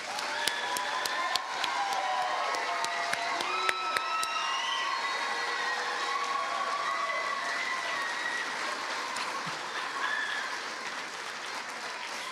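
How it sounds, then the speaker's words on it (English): Nursing graduates at a university convocation receive sustained applause from a large crowd, with dense clapping and scattered cheers holding steady throughout. "Let's all give them yet another round of applause."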